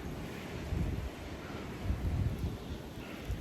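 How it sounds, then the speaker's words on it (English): Strong, cold wind during a March blizzard in Cheyenne, a steady low rumble buffeting the microphone with gusts swelling and easing over a few seconds, no voices. "Very windy and very cold."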